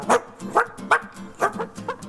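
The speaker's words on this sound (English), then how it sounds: "his dogs eventually started to bark at these turkeys" A farm dog barks repeatedly at loose turkeys, five or six sharp woofs in an uneven rhythm, fairly close and loud.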